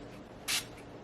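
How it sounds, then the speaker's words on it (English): A single short hiss of a Tower 28 spray bottle misting, close and brief, in an otherwise quiet room. "I'm spraying it and it's not going where I'm trying to spray it."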